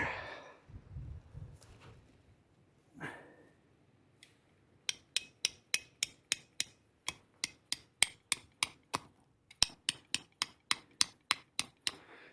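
Hammering a tent peg into a frozen marsh: about twenty sharp, ringing blows in a steady rhythm, close and loud, after a few quieter knocks and rustles.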